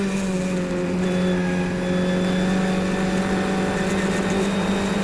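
Formula 1600 race car at Mont Tremblant, its engine held at a high, steady whine with strong sustained harmonics, loud and close as if heard from the cockpit, no speech over it.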